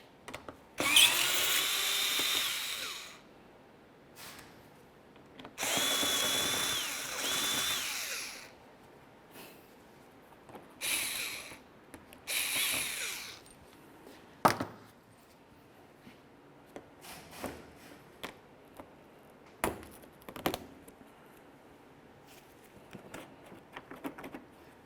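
A power drill zips out 7mm screws from a 2005-2010 Chevrolet Cobalt front bumper cover in three whirring bursts of a few seconds each, followed by quieter clicks and handling noises.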